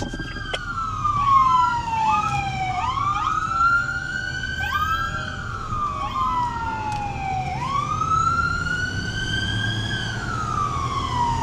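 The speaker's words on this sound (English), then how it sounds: "keep your sirens on" A loud police siren wails up and down in long sweeping cycles, close by and continuous, over a low rumble of traffic.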